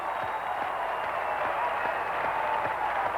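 A large crowd applauds steadily after a diver's dive at a 1984 diving competition, a dense, continuous wash of clapping heard at a moderate distance.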